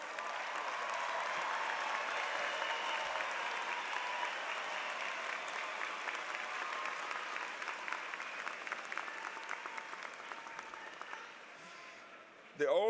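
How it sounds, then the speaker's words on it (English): Graduates at a university commencement ceremony stand and applaud their families, a sustained wash of clapping from a large crowd that fades gradually over several seconds before a brief loud burst at the end. "Graduates, stand and applaud the families,"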